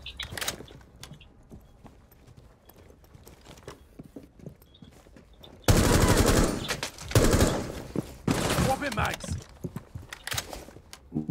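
Quiet Rainbow Six game sounds and soft clicks at first, then a sudden loud burst of rapid gunfire followed by more repeated shots and bursts.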